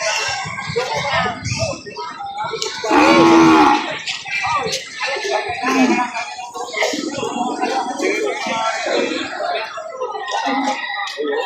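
Cattle bellow at a livestock market, with one loud, drawn-out moo near the start and further lowing mixed with people talking and bustling around throughout.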